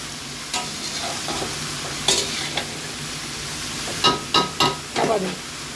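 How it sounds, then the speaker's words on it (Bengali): Shrimp, beans, eggplant and potatoes sauté for curry with a constant low sizzle and several sharp spatula scrapes and knocks against the pan, close and clear, no voices. "শিম বেগুন আলু কষা হচ্ছে ভালো করে কষতে হবে"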